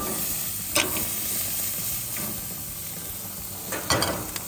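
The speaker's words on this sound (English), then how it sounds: "Time to sear the steak." A Wagyu steak sears in a hot pan with a steady, close sizzle and hiss, broken by a couple of brief sharp scrapes or stirs, with no voices.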